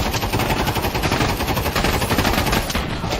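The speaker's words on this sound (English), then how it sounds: "This mag dumping just does not work." Rapid automatic gunfire from a magazine being emptied in modded Skyrim VR, a dense continuous burst of loud shots rattling without pause for the whole stretch.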